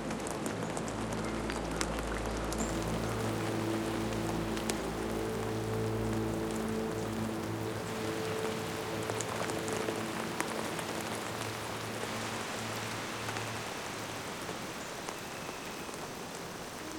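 Steady heavy rain falls at a pangolin lodge, a dense unbroken patter on surfaces with scattered louder drops and a low hum in the background throughout.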